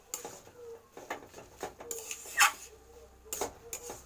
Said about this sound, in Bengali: এটাকে এই মশলার সঙ্গে ভালো করে মিশিয়ে আমি বেশ কিছুক্ষণ ধরে কষিয়ে নেব